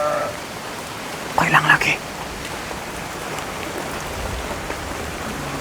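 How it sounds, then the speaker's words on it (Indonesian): Steady rain falls, a continuous hiss of drops on surfaces with a brief louder burst early on; people speak over the rainfall. "Ini hujan makin syahdu."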